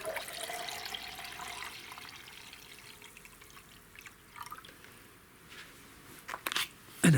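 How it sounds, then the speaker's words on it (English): Water poured into a LimeLike lime paint mix as it is diluted, a soft continuous watery rush that thins and fades, followed near the end by a few louder splashes and knocks of the container. "So then we add another 800 mils of water."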